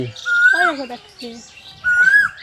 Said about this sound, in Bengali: এ পাশটা আসলে শুধু পাখির শব্দ শুনতে পাই কিচিরমিচির যে কত পাখি